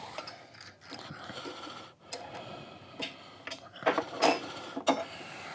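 Wrench ratcheting while loosening bolts on a machine mount during shaft alignment work, faint clicking bursts that grow sharper and louder toward the end, close and without talk.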